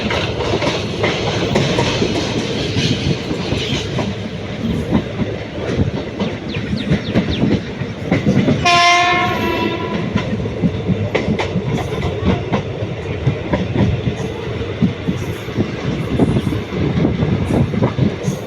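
A passenger train running from Tiruchirappalli to Puducherry rumbles along at speed with steady rhythmic wheel clatter, heard from on board, and a brief horn blast sounds midway.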